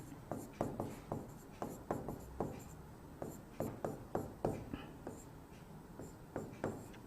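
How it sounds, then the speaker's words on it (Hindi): Chemistry reactions being written by hand on a surface, a brisk sequence of short, close scratching strokes in irregular bursts, fairly faint, with occasional soft speech underneath. "लिख देता हूं।"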